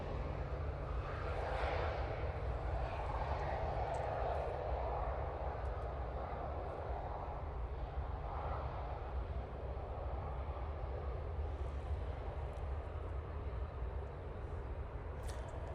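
An airliner landing at Manchester Airport produces a low, fairly faint distant engine rumble, continuous and steady throughout with a soft broadband roar, no talking.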